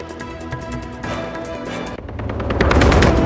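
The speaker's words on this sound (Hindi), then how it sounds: "दिल्ली के रोहिणी में भाऊ गैंग के बदमाशों ने की ताबड़तोड़ फायरिंग। टेरर फैलाने के लिए चलाई 2 दर्जन से ज्यादा गोलियां।" Rapid bursts of gunfire from a gang shooting in Rohini, Delhi, dense and continuous, growing louder and more intense toward the end with no voices.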